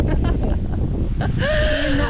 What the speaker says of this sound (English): It actually turned so windy now